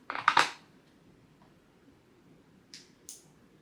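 A few crisp snipping clicks of scissors cutting string, a cluster at first, then two lighter snips after a quiet pause.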